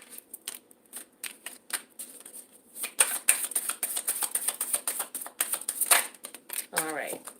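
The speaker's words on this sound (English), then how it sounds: "All right, so now these cards here that I'm shuffling now" Tarot cards are shuffled in quick, papery riffles and flicks that repeat steadily at close range, with a person talking alongside the shuffling.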